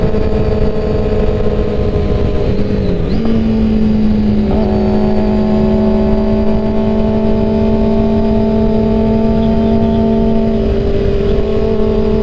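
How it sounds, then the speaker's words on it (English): Loud, steady sportbike engines droning and revving together, with a brief pitch dip early on and a low, sustained hum throughout. "We're revving in harmony."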